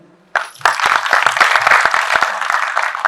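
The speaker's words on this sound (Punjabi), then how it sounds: "ਆਪਦੇ ਲਈ ਤਾੜੀ ਮਾਰ ਦੋ" Applause from a studio audience in Punjab, a sudden burst of loud, dense clapping that starts after a short quiet moment and keeps going steadily close by.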